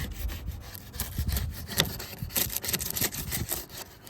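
A knife blade scrapes old paint off an aluminum jon boat hull in a string of short, rasping strokes, close and fairly quiet, with no talking.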